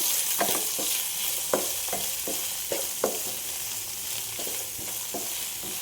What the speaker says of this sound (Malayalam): സവോള ചേർത്ത് നന്നായി ഇളക്കുക